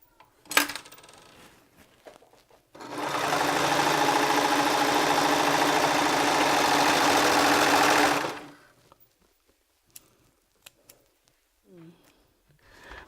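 A sewing machine runs in one continuous burst of about five seconds, stitching a gusset onto legging fabric, with a steady whirring buzz between quieter handling clicks and taps.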